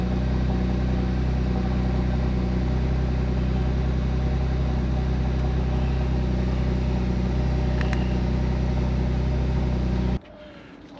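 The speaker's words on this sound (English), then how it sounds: "let's go ahead and start the car now." A Porsche Macan V6 Turbo 3.0 engine runs at a steady, loud idle, its low rumble continuous for about ten seconds before cutting off abruptly near the end.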